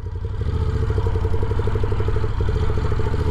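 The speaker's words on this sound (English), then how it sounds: "I'm just gonna let it idle down the hill so it can warm up a little bit" A Moto Guzzi V7 motorcycle engine idles steadily at close range, a low, even, throbbing mechanical pulse with light clatter and no voices over it.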